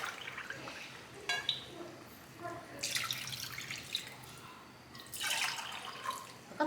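Water is poured from a glass into a pot of basmati rice for methi pulao in a home kitchen, coming in a few separate splashing pours with quieter dripping between them.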